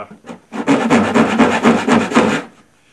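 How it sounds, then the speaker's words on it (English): An old bastard file rasping notches into a pail, several quick, loud back-and-forth strokes of gritty scraping, close up and alone, over about two seconds. "So I'm going to use my trusty old bastard file"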